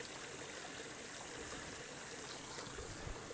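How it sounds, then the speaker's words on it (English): A small creek in the Grand Canyon flows steadily, giving a faint, even wash of trickling water with no voices over it. "we're going down a little bitty creek that goes into the creek"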